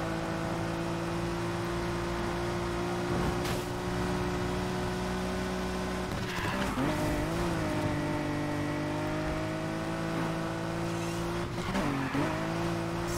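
Nissan Skyline R34 in Need for Speed Heat cruising with a steady, droning engine hum, then revving and shifting around the middle and end, with brief tire noise, close and continuous, no voices.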